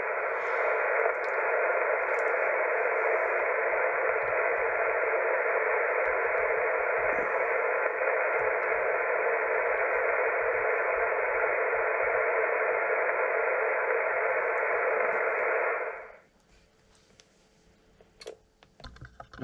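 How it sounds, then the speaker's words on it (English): Ham radio static on the 11-meter band from a Yaesu FT450D transceiver: a steady, even hiss holds for about sixteen seconds, then cuts off abruptly to near silence with faint background noise. "Not a lot happening on 11 meters on the radio this morning."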